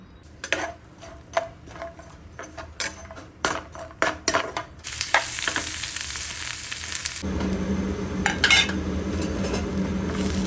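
Coconut fries in oil for a masala: first a run of sharp metal spoon clinks and scrapes against the pan, then a dense, steady sizzle swells up and continues to the end.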